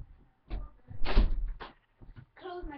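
A door being pushed shut indoors, heard as a few close thuds and clunks with one heavier knock in the middle, and a voice briefly joining at the end.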